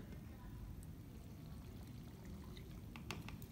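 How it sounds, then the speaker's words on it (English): About a cup and a quarter of water is poured from a cup into cornstarch to mix homemade chalk paint, a faint, steady splashing pour with a few sharper spatters near the end. "And then you're going to use a cup and a quarter of water."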